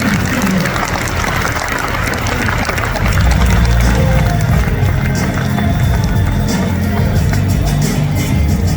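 A seminar audience in a large hall applauds women who have stood up, with dense, sustained clapping that swells slightly halfway through and stays loud to the end.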